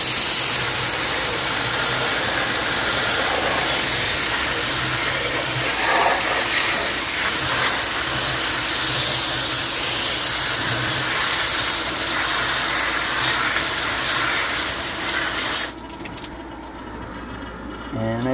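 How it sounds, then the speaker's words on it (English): Water spray rinsing oven cleaner off a Chevy 4.3 engine, a steady loud hiss of the spray that runs for most of the stretch, then cuts off near the end. "so I'm going to give it a spray off."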